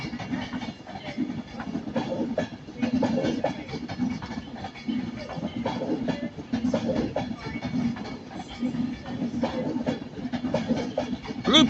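An Avanti West Coast train on the 1314 service to London Euston rumbles steadily through Manchester Piccadilly, a continuous loud roar of wheels and hiss with faint rhythmic clatter and no voices.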